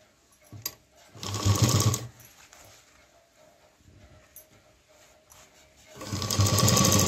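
A sewing machine stitches cloth and piping for a homemade tiffin lunch bag in two loud bursts, with a quiet pause between them as the fabric is turned at a corner.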